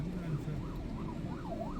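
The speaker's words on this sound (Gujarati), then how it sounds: "ટનલમાં આવી જાય એમ્બ્યુલન્સ" An ambulance siren wails in a road tunnel on a highway between Amritsar and Kullu, its rising and falling tone echoing over the steady roar of traffic, moderately near.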